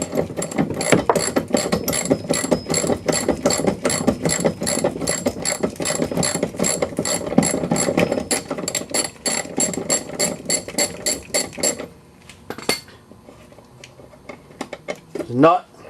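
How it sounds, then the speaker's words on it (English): Close, rapid clicking of a ratchet working loose an upper control arm bolt on an Audi A4 rear suspension, a dense run of clicks for about twelve seconds, then scattered clinks of metal parts. "Now we're going to take the upper control arm bolt out."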